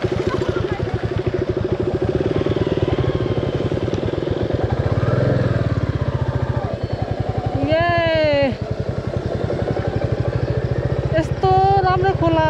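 A motorcycle engine runs near a dry riverbed in a steady, loud, rapid thrum close by, with a couple of short rising whines from revving, while people talk over it.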